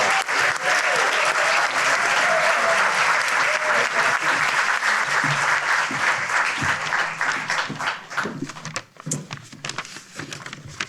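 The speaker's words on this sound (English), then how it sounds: "Please give them one more round of applause." An audience at an award ceremony applauds the winners in a loud, dense, sustained burst of clapping that thins toward the end, with some voices faintly audible underneath.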